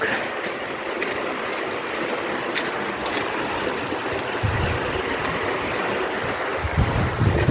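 The Collantes River in Tanauan City flows steadily in a broad, even hiss, with some low wind rumble on the microphone.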